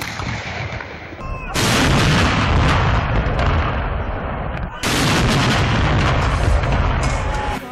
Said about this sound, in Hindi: वफाक और सूबों में तोपों की सलामी से दिन का आगाज हुआ।